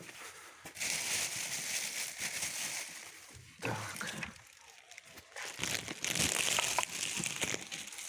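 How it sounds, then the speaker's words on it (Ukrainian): Plastic bag crinkling and rustling as a compact Zenit TsPL 355/13 electric chainsaw is pulled out of its packaging, with bursts of handling noise that come and go and a brief spoken word in between. "може зараз якось витягну з пакета, щоб показати саму пилу"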